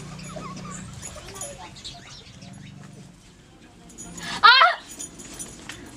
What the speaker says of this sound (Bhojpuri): अरे वो कुत्ता है मम्मी जी कुत्ता है कुत्ता